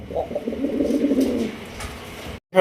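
Pigeons coo softly and close by at a pigeon farm, a low warbling murmur that fades out after a couple of seconds.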